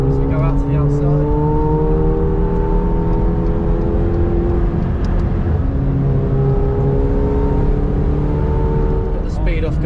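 A McLaren 720S engine hums and builds steadily on the Donington GP circuit, its tone rising in smooth sweeps inside the cabin while a person talks over it.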